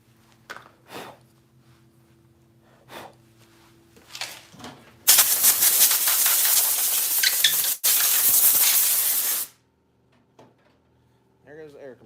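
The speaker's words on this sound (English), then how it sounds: "There goes the air compressor." An air compressor blows a loud, hissing burst of air for about four seconds at a knife workshop, briefly cut off then resuming before stopping abruptly, preceded by scattered clatter and light handling noises.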